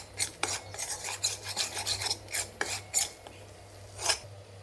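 A spoon scrapes and stirs gram flour (besan) roasting in ghee in a pan over a low flame, making a series of rhythmic raspy strokes, fairly soft, over a steady low hum and with no talking.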